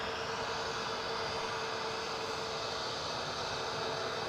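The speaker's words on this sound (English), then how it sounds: "we've got another British Airways shuttle coming in." A British Airways shuttle airliner approaches to land at Edinburgh Airport, heard as a steady, broad engine roar with a hissing wash that holds level throughout, with no voices.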